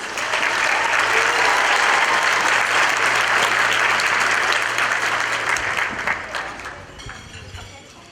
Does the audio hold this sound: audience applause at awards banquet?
yes